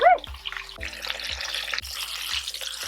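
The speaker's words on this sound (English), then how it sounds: "We got our dredged chicken into the fry." Dredged seitan vegan chicken dropped into hot frying oil in a van kitchen, giving a steady broadband sizzle and crackle throughout, with a few soft knocks and a brief exclamation at the start.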